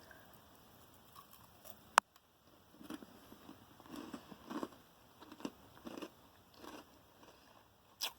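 Someone bites into and chews a cookie butter cereal dessert bar, a sharp snap followed by soft, irregular crunching and mouth noises, close and quiet.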